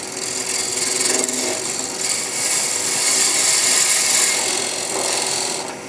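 A glue block mounted on a wood lathe is trued up with a turning tool, giving a continuous rough scraping and rasping of wood with slight swells in intensity, close and fairly loud, with no speech.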